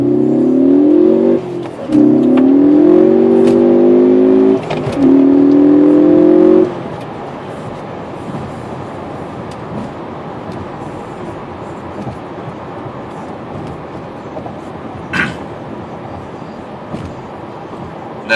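A 2013 Ford Focus ST accelerates hard from a stop, its engine rising loudly in pitch through three gear pulls separated by quick shifts, then settling into quieter steady road and tire noise.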